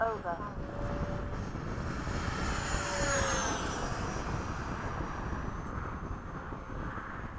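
BAE Hawk jet engine in formation flight, heard from the cockpit as a loud, steady roar with a whining tone that rises and sweeps in pitch midway, accompanied by wind rush throughout.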